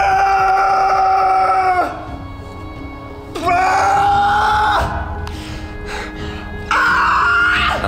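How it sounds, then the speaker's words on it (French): A climber's cries during a final attempt on a hard climbing route: three long, loud, strained shouts with quieter breathing gaps between them. "Je vous laisse avec ses cris."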